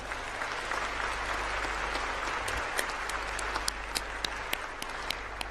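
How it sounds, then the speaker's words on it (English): Large audience at a global entrepreneurship summit closing plenary applauding pitch semifinalists, a steady dense wash of clapping throughout with a few sharper individual claps standing out near the end, over a low constant hum. "let's give everyone who pitched a huge round of applause"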